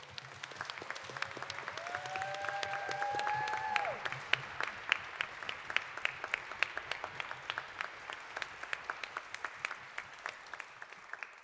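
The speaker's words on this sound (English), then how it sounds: "we give you a round of applause." Fairly faint, sparse applause from a university wind ensemble concert audience, individual claps spaced out across the clip, with a brief sliding whistle-like tone early on.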